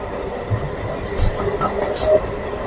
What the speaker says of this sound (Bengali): একটা ট্রেন যেটা যাচ্ছে সেটা দার্জিলিং মেলকে ওভারটেক করে দিয়ে চলে যাচ্ছে